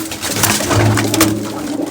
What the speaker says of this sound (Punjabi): ਉਹ ਜਿਹੜਾ ਲਾਲ ਚੀਨਾ ਕਬੂਤਰ